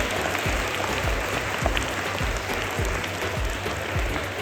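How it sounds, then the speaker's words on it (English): An audience at a school Children's Day celebration claps for the teachers, dense continuous applause close to the microphone with a few louder individual claps, holding steady throughout. "Give them a huge round of applause."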